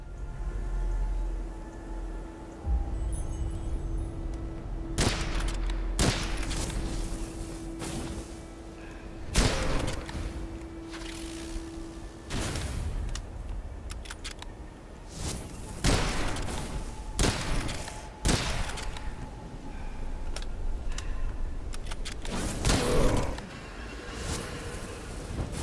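Irregular single gunshots from Witchfire ring out a dozen or so times over a dark ambient backdrop, each blast punchy and booming, with gaps of a second to several seconds between them.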